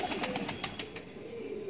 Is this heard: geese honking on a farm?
no